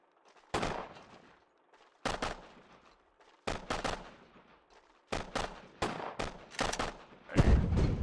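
Soldiers fire in the wartime strategy game Sudden Strike 2, with loud isolated rifle shots followed by echoing tails and then a denser cluster of gunfire and a heavy thump near the end.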